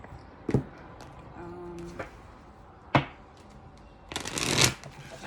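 An oracle card deck is shuffled in a few quick riffling bursts, with soft card taps and slaps between them and a longer, louder riffle near the end, close and clear in a quiet room.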